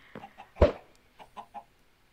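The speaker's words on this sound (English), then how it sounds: "I have my chicken farm down here as well" Chickens on a video game chicken farm cluck in a few short, separate bursts, one louder squawk standing out among softer clucks, with no talking.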